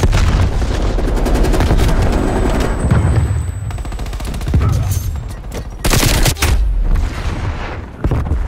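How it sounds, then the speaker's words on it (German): Grenade thrown and exploding in Call of Duty Black Ops Cold War multiplayer, loud booms amid continuous gunfire and battle noise, with a sharp blast near the six-second mark. "Granate geht raus. Werfe Granate."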